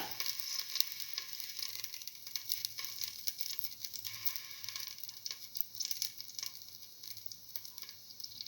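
Fenugreek and fennel seeds sizzling in hot oil in a pan, a steady bright crackle and hiss with faint stirring rattles, close and continuous.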